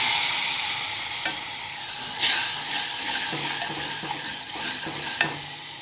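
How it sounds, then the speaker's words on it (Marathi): Whole spices, red chilli powder, turmeric and salt fry in hot oil for a mixed dal, giving a steady close sizzle and hiss with occasional sharper clatters as the masala is stirred. "मसाला चांगला तळला जातोय"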